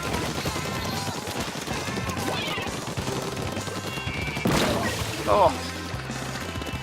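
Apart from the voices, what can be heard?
suction bomb exploding in video game Splatoon 2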